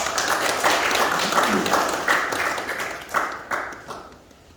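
An audience at a logistics center opening ceremony applauds as the president of an association steps up. The clapping is moderately loud and continuous, swells briefly, then fades toward the end.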